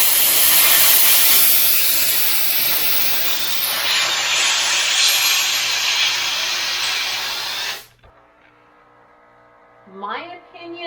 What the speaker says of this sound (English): it's a wider spray and you're getting a little bit more steam out